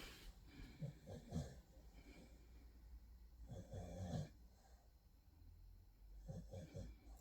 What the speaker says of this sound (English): Snoring Staffy's off again.